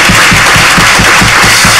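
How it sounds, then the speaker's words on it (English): Applause from an audience at an academic plenary event, a dense continuous wash of clapping with a faint periodic low pulse, loud and sustained with no voices. "another tremendous round of applause for Jasleen herself"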